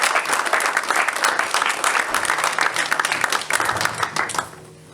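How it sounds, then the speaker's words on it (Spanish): A church audience applauding, a dense, loud burst of many hands clapping continuously, slightly tapering toward the end. "Denle un aplauso al Señor"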